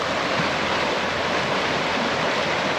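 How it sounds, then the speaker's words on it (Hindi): Rushing mountain stream water flowing down from the hills along the road to Pahalgam, a steady, loud broadband roar with no pauses, close by and continuous throughout. "पानी का करंट, देखो भाई ये कहाँ से आ रहा है, ऊपर से पहाड़ों से पानी आ रहा है"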